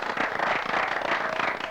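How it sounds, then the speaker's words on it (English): An audience at a quiz bowl competition claps in a brief, dense burst of applause, steady and fairly loud throughout. "Let's have a round of applause."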